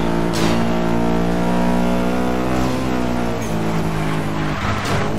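A McLaren speeds down a highway in Need For Speed Most Wanted, its engine revving loudly and close with a sustained high whine that dips and climbs again, with brief whooshes as it passes traffic.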